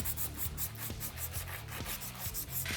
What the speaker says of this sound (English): I'm taking some 100 grit emery cloth to clean off the mill scale from my weld area.